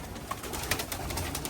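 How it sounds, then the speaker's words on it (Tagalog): Bird calls, including a few soft coos, sound over steady outdoor background noise with no talking. "Silipin natin mga ibon natin."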